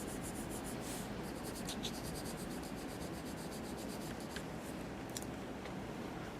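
Pencil strokes on paper, a close, continuous dry scratching in quick repeated marks, steady and fairly quiet, with no voice over it.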